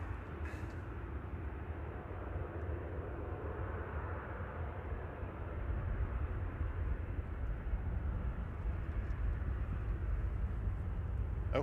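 A plane approaching Manchester Airport while crabbing into a crosswind produces a broad, steady engine roar that swells slightly louder partway through, heard from the ground without any talk.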